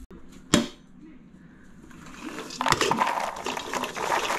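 Popped popcorn poured from a pot into a bowl: a sharp knock, then a rising, dry rustling clatter of kernels that builds and continues to the end, fairly close and moderately quiet.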